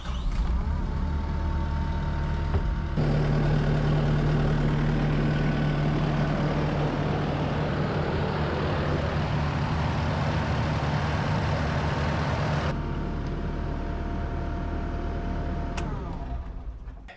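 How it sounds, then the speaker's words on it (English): A Kubota SVL 75-2 skid steer engine, just after an oil change, is started and runs steadily at a loud, constant level for about ten seconds, then shuts down, with an idling hum before and after. "We're going to start up the skid steer and see if we got any leaks."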